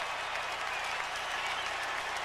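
A stadium crowd of 103,000 at a Tennessee versus Georgia college football game roars continuously, a dense, steady wash of cheering and clapping with no breaks.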